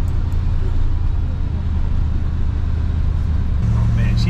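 A 1974 El Camino is on the move, heard from inside as a steady low engine drone and road rumble, with a deeper engine note rising near the end.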